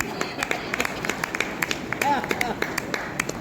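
Scattered claps from an audience at a poetry event, with quick sharp hand strikes in a loose rhythm over a low murmur of the crowd.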